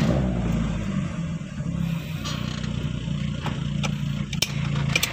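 A carbureted car engine rumbles low and close as the clutch is let out at pull-away, its note wavering unevenly, with a few faint clicks and scrapes toward the end.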